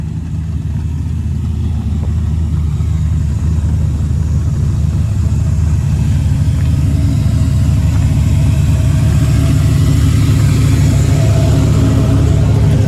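A nitrous-equipped car engine pulls hard in first gear, a loud, steady low roar that holds dense and unbroken for the whole stretch with no voices over it.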